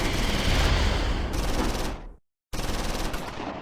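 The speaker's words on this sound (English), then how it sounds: "The mortar opens up on massed infantry." Mortar fire on massed infantry in the Close Combat 4 war game: dense, loud rumbling barrage of blasts and gunfire that cuts to brief silence, then resumes.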